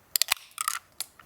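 A bottle of grapefruit-rosemary gin lemonade is opened outdoors at a lakeside campsite, giving a quick series of close, sharp crackling clicks and a short hiss as the cap twists off, with no talk.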